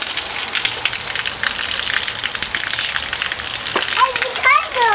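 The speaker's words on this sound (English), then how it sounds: "It's raining." Rain falls in a steady hiss and patter close by, loud and continuous, with a voice and an adult's brief high voices near the end.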